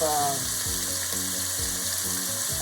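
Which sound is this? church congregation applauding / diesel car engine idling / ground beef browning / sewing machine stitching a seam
ground beef browning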